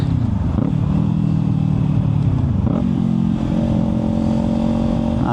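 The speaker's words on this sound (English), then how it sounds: "that new exhaust, or slip-on exhaust, sounds sick" A motorcycle fitted with a slip-on exhaust runs loud and close, its engine note rising and falling through gear changes with steady wind rush underneath.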